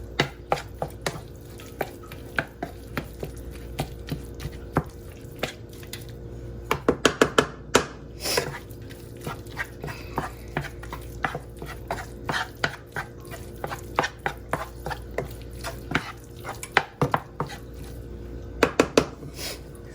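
A utensil breaks up ground beef browning in a pot for homemade spaghetti, making repeated sharp scraping and clanking knocks against the metal, irregular and close, with bursts of quick taps over a soft frying hiss and no talk.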